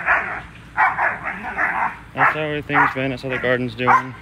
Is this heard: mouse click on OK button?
no